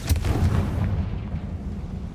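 A Confringo fire blast spell from the video game Hogwarts Legacy lands as a heavy, booming explosive burst up close, then rumbles out into a low, fading roar.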